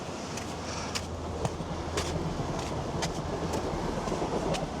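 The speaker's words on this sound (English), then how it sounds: "Just missed the train." A train passes along a coastal route, a steady broad rumble with faint repeated clicks of wheels on rail, heard alongside outdoor wind and footsteps during a run.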